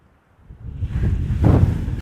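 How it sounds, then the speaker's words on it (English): Wind blows across an open reservoir, building from near silence into a strong, rumbling gust that buffets the microphone. "Get out of the wind."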